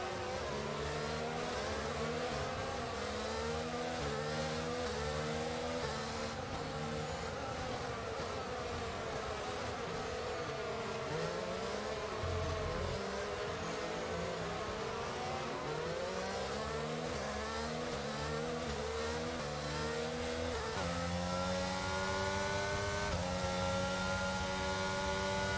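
Formula 1 race car engines in the video game F1 22, a continuous high-pitched whining buzz of several cars revving and shifting gears up and down, steady and fairly close throughout, no talk.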